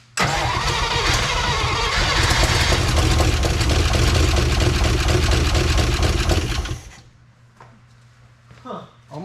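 A 1955 DeSoto Firedome engine cranks steadily for about seven seconds with a loud, rhythmic churning that almost catches, then stops abruptly, leaving a quiet pause and faint movement.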